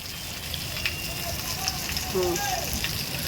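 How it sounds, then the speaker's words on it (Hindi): Corn cobs roast over coals at a rainy street stall, giving a soft continuous crackling sizzle mixed with rain hiss, with faint vehicle horns nearby. "सामने भुट्टा सिक रहा था तो मैंने एक भुट्टा ले लिया है"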